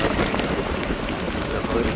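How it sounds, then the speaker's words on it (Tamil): Rain falling steadily over a small village, a dense, close, even hiss of drops with no pauses, voices faintly mixed under it. "மழை தொடங்கிட்டு மழை பெய்து ஒன்று இருக்குது."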